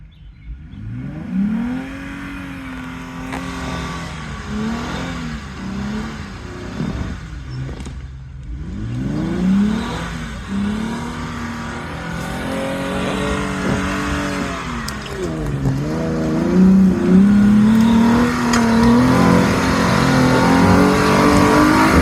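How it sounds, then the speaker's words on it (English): A Jeep off-road rock crawler's engine revs and strains up a black-rated trail, rising and falling in steady loud surges that climb to a sustained high roar, close and continuous with no talk. "here's Landon giving this black trail a try that I struggled so badly on"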